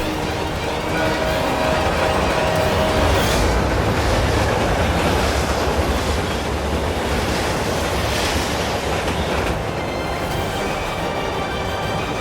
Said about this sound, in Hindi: ट्रेन अपनी तरफ आ रही है।